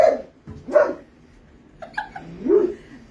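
An 11-year-old Belgian Malinois lets out a few short, close barks and yips with a whining edge, spaced irregularly across a few seconds with quiet gaps between.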